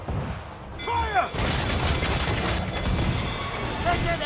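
Ship cannons and mortars fire in a naval battle in Assassin's Creed IV Black Flag, with loud booming blasts, a rolling volley and heavy rumble amid shouted crew voices.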